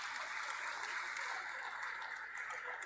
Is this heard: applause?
yes